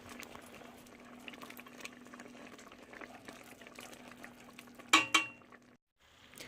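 Southern-style cheese grits bubble in a pot on medium-low heat, a steady soft simmer over a low hum, with a pair of sharp clinks near the end before a brief drop to silence.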